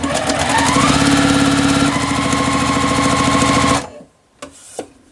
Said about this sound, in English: we are going to stitch all the way around the edge of the square